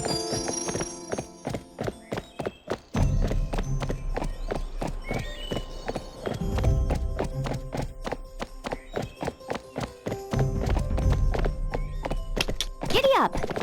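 Hooves clip-clop steadily in Barbie Horse Adventures as a horse trots through a forest trail, a quick rhythmic run of sharp thuds under game music and a voice talking.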